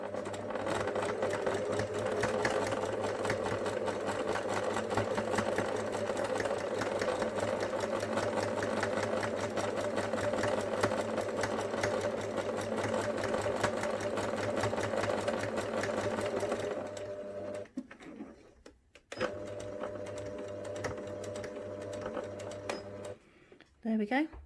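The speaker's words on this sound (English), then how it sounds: "Now sew forwards to the end, and then when we get to the end, we'll do a couple of reverse stitches" A sewing machine stitches a seam for a memory bear, running steadily and loudly up close with a constant motor hum, then briefly stops and resumes for a few short reverse stitches, with a voice talking over it.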